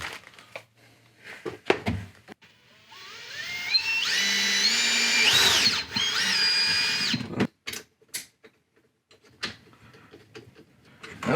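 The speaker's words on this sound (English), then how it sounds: "I'm gonna drill in the back side of this" A power drill bores into the back of a sink to fit a reverse osmosis faucet, whining up in pitch under load for a few seconds between short clicks and clunks of handling, close and fairly loud.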